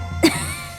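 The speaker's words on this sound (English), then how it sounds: "you're coughing harder than you were before" A woman in a video game cutscene gives a single short, sharp cough, close and clear, alone against a quiet background.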